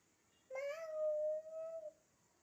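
A person imitates a cat's meow with one long, drawn-out, fairly loud meow-like call, alone and nearby, in a playful exchange of animal sounds with a child.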